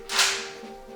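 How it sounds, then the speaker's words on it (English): A book drops to the floor, a single brief slapping thud with a sharp, bright onset that fades within a fraction of a second against a quiet room with a faint steady hum. "That is the sound of the book falling to the floor"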